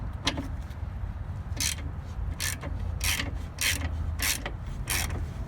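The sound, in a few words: 15mm and 18mm sockets loosening shock absorber nut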